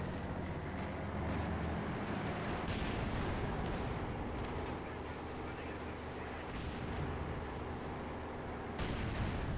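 Artillery barrage in a war video game, a steady rumble of distant shell fire and explosions layered with gunfire, heard faintly beneath the game's background noise.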